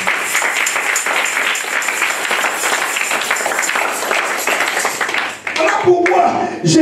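A church congregation applauding Jesus during a sermon, dense sustained clapping and cheering from many people that drops off near the end, followed by a voice speaking.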